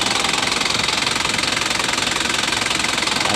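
An Isuzu Elf NKR 55 truck diesel engine runs steadily with a dense, rapid knocking clatter, loud and close, with no voices.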